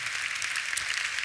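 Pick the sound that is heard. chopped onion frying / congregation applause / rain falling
congregation applause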